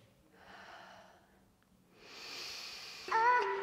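Quiet breathing during a pole dance warm-up, with soft, airy inhales and exhales in two separate stretches, ending on a short, sharper breath.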